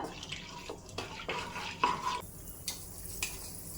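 Chana dal (Bengal gram) frying and being stirred in a pan for curry leaf powder, with repeated scraping strokes and a soft sizzle, close and moderately loud, no talking.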